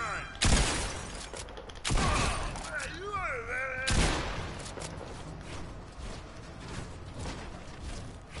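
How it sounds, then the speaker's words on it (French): Assault rifle shots ring out in Fortnite as a few loud, separated bursts with ringing tails, while a voice briefly sounds between them. "Le fusil d'assaut."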